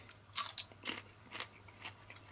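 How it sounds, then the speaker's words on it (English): A crisp crunch as teeth bite into a raw bean, followed by several sharp crunchy chews spaced out over quiet, close and clear. "Let's give it a bite."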